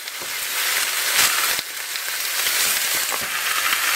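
Pork ribs sizzle and hiss steadily in a hot frying pan while being stirred, with a few scraping knocks from the spoon against the pan, close and fairly loud.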